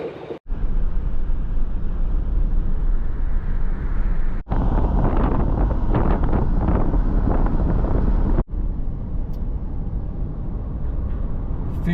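Truck driving along a forested highway in Ukraine toward Kyiv, heard from inside as a steady, loud broadband road and engine rumble with wind buffeting, briefly dropping out twice.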